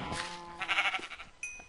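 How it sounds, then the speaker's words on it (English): Sheep in Minecraft giving a short, wavering bleat, faint and close, followed by a brief higher game tone. "That sheep is pissing me off."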